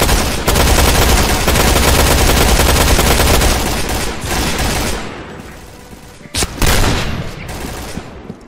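Video game battle with a grenade landing at the player's feet: dense, loud automatic gunfire fills the first few seconds, then thins and fades, followed by a sharp burst near the end.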